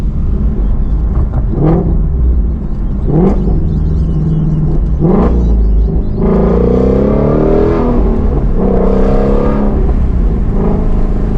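Shelby GT350R V8 engine accelerating on the road, loud and close from inside the car, with rising revs broken by several quick gear shifts and no talking.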